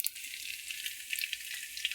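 Garlic frying in hot oil gives a steady, close, hissing sizzle with fine crackles and no voices over it.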